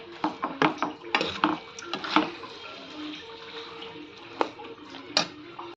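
Pulihora tamarind rice is stirred in a pan, with scraping and clinking of the utensil against the metal in uneven strokes, close up, plus a few sharp knocks and no talk.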